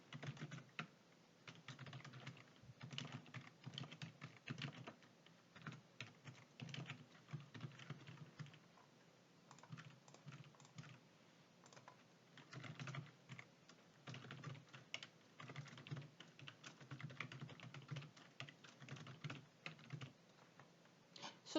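Fast, steady typing on a computer keyboard while entering text into a word-processor table, a dense run of quiet, close key clicks with brief pauses, no voices.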